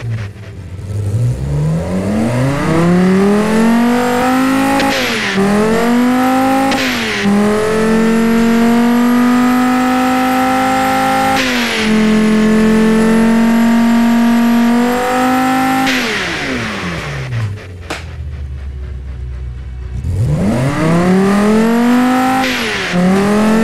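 A V10 engine fitted in an SUV in the BeamNG driving game revs loudly through long rising and falling sweeps, climbing, holding high, dropping back to idle and revving again.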